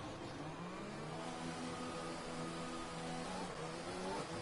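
Race car engine in the F1 2020 video game, a sustained high-pitched whine holding steady and rising slightly toward the end, loud and continuous with no talk over it.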